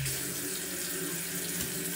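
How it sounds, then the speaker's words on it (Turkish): Tap water runs steadily into a sink while someone washes their face, a continuous close splashing stream with no pauses for the full two seconds. "Yüzümü şimdi yıkayacağım, yüzümü temizleyeceğim."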